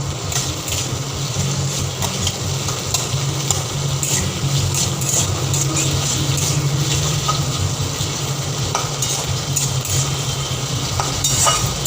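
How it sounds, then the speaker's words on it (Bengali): Onions and tomatoes frying in a pan for a spicy egg dish, with a steady continuous sizzle and occasional faint utensil taps throughout, no talking. "আমি পেঁয়াজ আর টমেটোটা অ্যাড করে দেবো, দিয়ে এটাকে একটু ভাজা করবো"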